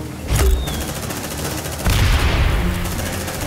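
Turret gunfire in the video game Aliens Dark Descent, two bursts of rapid fire, the first around half a second in and a louder, sustained volley from about two seconds that continues to the end.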